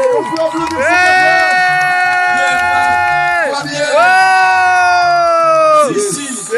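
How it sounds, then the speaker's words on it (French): The crowd cheers and whoops for a 54-year-old woman breakdancer. Loud sustained tones ring over the cheering, with some chatter and only light clapping. "On peut applaudir hey!"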